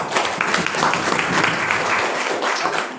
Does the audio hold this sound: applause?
yes